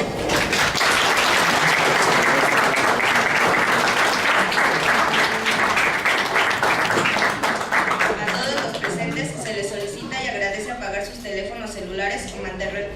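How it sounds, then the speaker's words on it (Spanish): Audience at a legal lecture on evidence law (derecho probatorio) claps loudly and steadily for several seconds, then the applause thins out and fades toward the end. "para quien solicito un caluroso aplauso"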